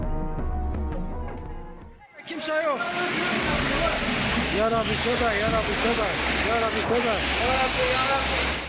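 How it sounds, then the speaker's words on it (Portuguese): Floodwater roars down a hillside behind a house and surges through it, a dense, loud rushing that swells in after a brief dip and runs on steadily, with voices calling out over it. "A água vem descendo o morro atrás da casa com uma força absurda."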